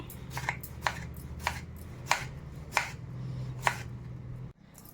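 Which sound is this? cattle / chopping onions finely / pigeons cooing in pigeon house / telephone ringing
chopping onions finely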